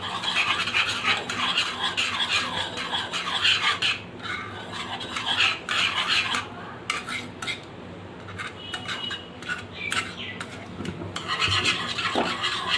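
Homemade white sauce for a chicken corn quiche is stirred steadily in a pan, making continuous close scraping and rubbing of the spoon against metal with no talking.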